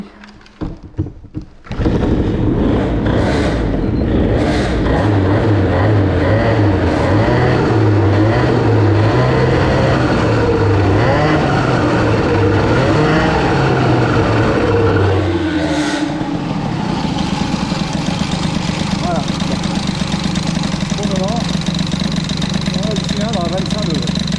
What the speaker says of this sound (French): on va la laisser chauffer, la nénette. Un petit coup de gaz pour la dégraisser.